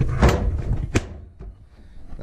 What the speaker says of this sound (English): it'll latch again when the door is all the way shut